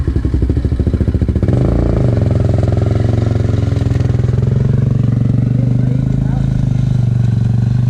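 A small engine on a Shaw body build catches after starting and settles into a loud, close, steady idle with a rhythmic chugging rumble.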